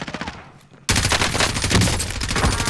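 Heavy Warzone video game gunfire erupts after a brief lull, loud sustained automatic bursts and rapid shots filling the rest of the moment with dense, continuous crackle.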